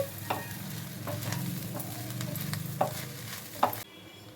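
Fish eggs frying in a pan over a medium flame give a soft, steady sizzle with a few faint stirring clicks and taps, ending in quieter hiss.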